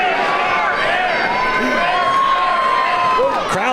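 Wrestling crowd at a live show, dense and loud, chanting and cheering together throughout, with whoops and shouts rising near the end.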